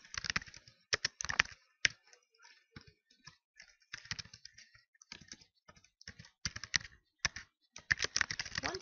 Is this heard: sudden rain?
no